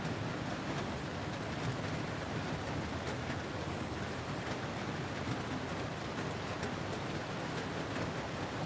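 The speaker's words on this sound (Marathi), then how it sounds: "फार असा जोरात नाही आला टिप टिप टिप टिप झालाय" Light drizzling rain falls steadily in a soft, even hiss that continues unchanged throughout, with no voices.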